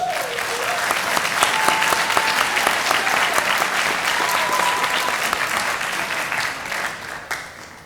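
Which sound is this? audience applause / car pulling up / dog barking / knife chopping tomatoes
audience applause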